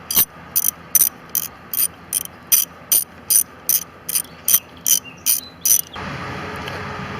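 A ratchet wrench loosens the EGR valve bolts on a Renault Espace 2.2 dCi, giving a steady series of about fourteen sharp, evenly spaced clicking bursts up close before stopping.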